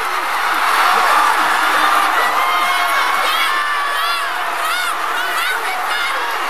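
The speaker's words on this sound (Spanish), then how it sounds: "Esa es la carrera que presencié de Usain Bolt." Roaring crowd of about 80,000 in an Olympic stadium during a Usain Bolt sprint: dense, loud, sustained cheering and high shouts and whoops that swell and stay strong throughout.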